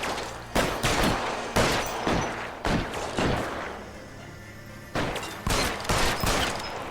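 Gunfire in the video game L.A. Noire comes in loud bursts of several rapid shots, separated by short pauses, with no talk over it.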